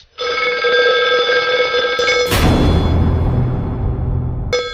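An old-style telephone bell rings loudly and continuously, then breaks into a harsh clatter before the ring resumes briefly at the end.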